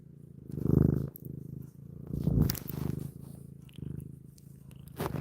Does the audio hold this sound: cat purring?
yes